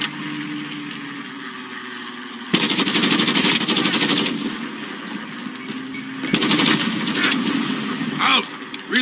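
Rapid bursts of 5.56 assault rifle fire in Call of Duty Modern Warfare chatter in two long strings over a steady game background, with a voice talking throughout.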